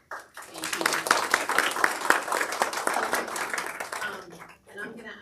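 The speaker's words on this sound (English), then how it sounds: "I'm gonna ask folks to not do a lot of clapping" Scattered audience clapping in a meeting room at a public utilities consumer session on energy bills, a burst of sharp individual claps that builds, holds for several seconds and trails off into a few stray claps.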